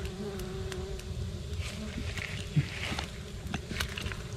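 A steady, close insect buzz of many small stingless bees from an underground nest droning continuously, with a few soft knocks and rustles underneath.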